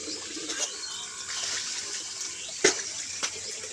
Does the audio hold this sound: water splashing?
yes